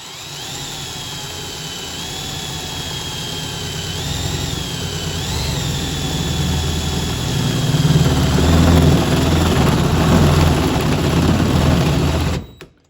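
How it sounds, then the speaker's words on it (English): Power drill boring with a large bit, a loud steady motor whine that strains and deepens as the bit bites in, then cuts off abruptly at the end. "So on a bigger drill bit, you may want to slow down a little bit, really let it eat if you're not going to do a pilot hole."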